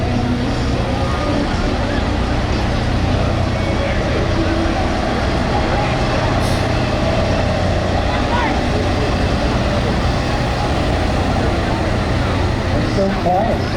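A Scania semi truck at a hot rod semi truck pull gives off a loud, steady engine drone throughout, mixed with crowd and arena noise while an announcer talks.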